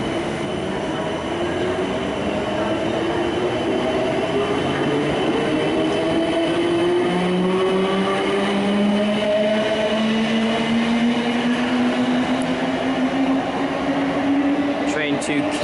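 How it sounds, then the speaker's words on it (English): A train rolls steadily through Richmond station in London, its wheels droning and squealing in long rising tones, loud and close throughout. "Train to Kingston."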